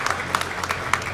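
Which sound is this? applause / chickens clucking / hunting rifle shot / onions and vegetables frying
applause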